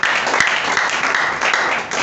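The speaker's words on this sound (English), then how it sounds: "Hey, can we clap for the Lord?" A church congregation claps together for the Lord, a dense, steady wash of many hands that holds at even loudness for about two seconds without pause.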